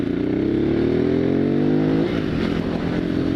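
A 2016 Ducati Hypermotard 939 with original exhaust accelerates hard, its engine note rising steadily and loudly for about two seconds before easing off into a rougher, lower rumble.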